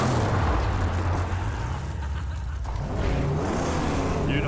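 Car engine in the Mad Max video game, a loud, steady low rumble that runs unbroken through the whole stretch, close and dominant with no talk over it.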